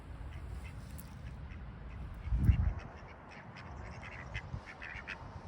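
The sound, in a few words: ducks quacking on golf green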